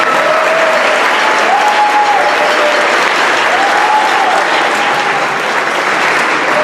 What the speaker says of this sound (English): if we can give those students a round of applause